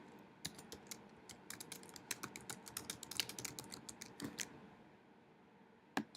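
Quiet computer keyboard typing, a brisk irregular run of close key clicks that thins out toward the end with one final tap.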